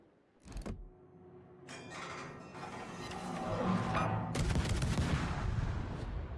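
Warship guns in World of Warships, a sharp opening salvo crack followed by repeated booming gunfire that builds into a dense, rumbling barrage of heavy shots, fairly faint overall, no talking.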